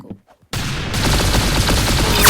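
Hand cannon gunfire in the Roblox game Arsenal: after a brief quiet moment, a loud dense fusillade of rapid shots erupts and keeps going to the end, close and intense.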